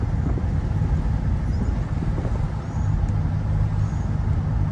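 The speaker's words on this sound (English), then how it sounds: "The supercharger's really cool sounding." A supercharged Pontiac GTO engine runs steadily with a low, continuous drone and a faint whine on top, close and constant throughout, with no voices.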